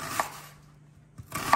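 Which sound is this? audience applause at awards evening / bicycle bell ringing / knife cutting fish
knife cutting fish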